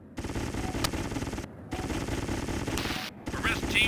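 Rapid, continuous turret gunfire in the G-Police video game: dense automatic bursts that run steadily, break off briefly twice, then resume, loud and close throughout.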